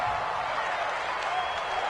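Steady roar of a stadium crowd in an American football video game, a continuous broadband wash of cheering and noise that stays even and loud throughout with no break.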